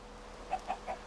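A Minecraft chicken clucks in a series of four short, evenly spaced, close and clear clucks over a quiet game background.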